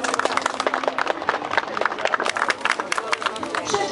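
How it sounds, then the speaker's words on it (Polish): Crowd applause and scattered clapping at an outdoor town-square party event in Bochnia, dense and steady throughout, with some crowd babble mixed in. "Bardzo proszę o brawa"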